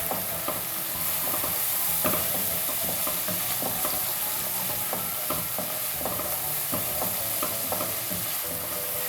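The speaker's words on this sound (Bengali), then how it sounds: "এখানেও আমি একটু গোলাপ জল অ্যাড করবো একে ভালো মতো কষাতে হবে" Chicken pulao masala stir-fried with a splash of rose water in a restaurant-style Bangladeshi morog pulao, a dense continuous sizzle with repeated sharp scrapes and knocks of a spatula against the pan, close and steady throughout.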